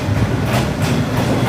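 Train passing very close on narrow railroad tracks, a loud continuous rumble with rhythmic rattling of the cars going by at close range.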